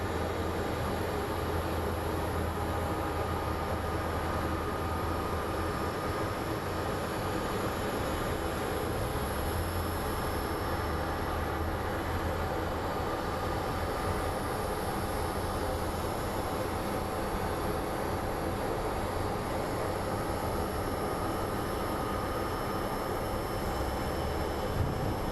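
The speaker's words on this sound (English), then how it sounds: "Let's watch this Alaska airline land." An Alaska Airlines airliner lands at Phoenix Sky Harbor International Airport, with a steady, broad roar of jet engines that holds at an even level the whole time.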